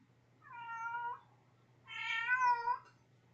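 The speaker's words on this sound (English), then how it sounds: "one of my mom's cats is meowing right now" A domestic cat meows twice indoors, a short mewl followed by a longer, louder drawn-out meow, clear and close against a quiet room hum.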